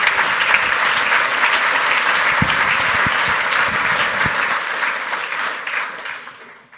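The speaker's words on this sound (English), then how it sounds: "give these guys a round of applause" A room full of people at a hacking talk breaks into loud, sustained applause for a group of hackers. It holds steady for several seconds, then tapers off at the end.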